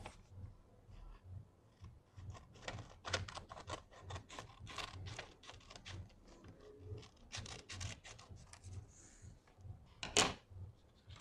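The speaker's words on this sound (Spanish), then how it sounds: "debemos cortar esta parte del papel. Podemos hacerlo con las tijeras." Scissors cut through a sheet of paper during a paper-folding craft, giving a steady series of crisp, close snips and rasps that run unbroken from start to end, with no voices.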